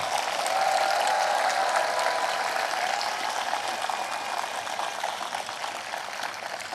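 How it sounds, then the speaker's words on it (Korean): Sustained applause from a large crowd at an outdoor memorial ceremony, thick even clapping that starts strong and eases slightly toward the end, with a faint tonal sound briefly under it. "마음을 다해 큰 박수로 응원 부탁드립니다"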